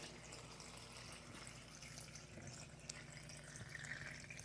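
Water running steadily into a container while filling it for a green juice, a continuous faint splashing stream with no talk.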